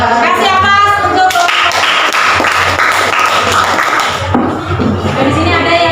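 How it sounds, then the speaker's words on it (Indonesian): An audience in a classroom at a university teacher-certification performance exam claps after a presentation: dense, continuous applause with many overlapping hand claps that holds steady before thinning slightly at the end. "Kasih aplaus untuk"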